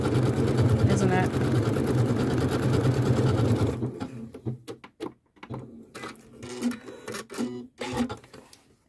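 A Janome sewing machine runs a decorative stitch over ribbon, a loud steady whirring mechanical hum for about four seconds, then stops and leaves faint clicks and handling sounds.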